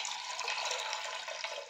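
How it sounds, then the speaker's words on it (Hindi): About a glass of water pours steadily into a pressure cooker of washed peanuts being prepared for dal dhokli, a continuous close splashing hiss lasting under two seconds with no talk. "1 ग्लास करीबन हम इसमें डाल देंगे पानी"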